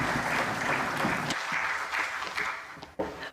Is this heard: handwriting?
no